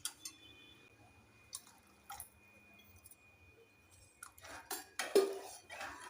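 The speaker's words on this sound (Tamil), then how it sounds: "இன்னும் கொஞ்சம் தண்ணி சேர்த்துக்கலாம்." Water is poured into drumstick-leaf sambar in a pressure cooker in a home kitchen, with sparse drips and a short burst of splashing and metallic clinks near the end over an otherwise quiet background.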